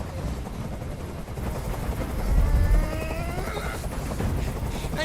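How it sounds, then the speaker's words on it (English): A helicopter drones overhead in Detroit: Become Human, a steady thrumming rotor noise filling the background with faint gunfire-like crackle mixed in. "can't stand that noise anymore! Tell that helicopter to get out of here!"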